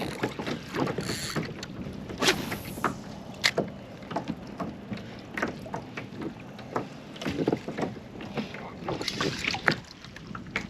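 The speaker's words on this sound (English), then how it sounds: "I'll just paddle up to roughly where I caught that fish." A kayak paddled along a remote waterway on a fishing trip, with repeated close splashes and drips of the paddle strokes in an uneven rhythm, gusts of wind across the microphone and occasional hull knocks, no speech.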